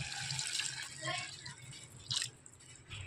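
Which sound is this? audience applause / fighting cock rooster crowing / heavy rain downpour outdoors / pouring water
pouring water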